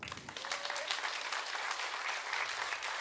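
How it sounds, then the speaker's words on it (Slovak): An audience in a hall gives steady, dense applause for a woman being honoured at an event, even crowd clapping throughout at moderate loudness with no speech over it. "Majka, a to je potlesk pre teba"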